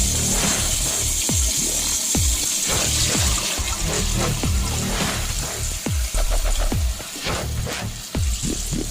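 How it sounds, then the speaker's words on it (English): Salted cooking water is poured off a pan in a steady, close rushing stream broken by splashy, sputtering bursts, with no voices. "We remove the water."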